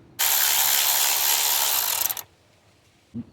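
A ratchet spins a 12mm bolt during timing chain and head gasket work on a Hyundai engine, a dense rapid clicking run lasting about two seconds, followed by a single soft knock.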